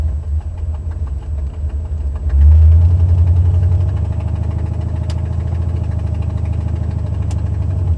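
A Buick 455 Stage-1 Regal engine with a busted exhaust header gasket on the driver's side idles loudly with the windows up, giving a deep steady rumble that swells briefly before settling back into an even, ticking idle.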